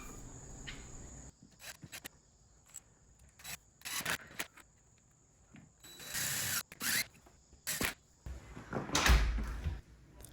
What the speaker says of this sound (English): With that extra shim at the bottom, the knob latch is now catching and the deadbolt is lining up better.